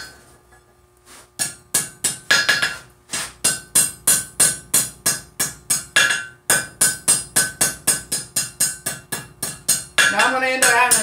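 A blacksmith's hammer strikes metal in a steady rhythm of about twenty loud, ringing blows close by, with a brief pause midway, before a burst of other noise at the end.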